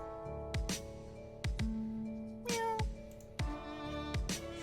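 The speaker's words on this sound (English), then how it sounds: "You turn around expecting a cat, and you do get a cat." A cat meows repeatedly in the Pesterquest video game, four short, clear mews spaced about a second apart over a quiet, steady musical background, with no talking.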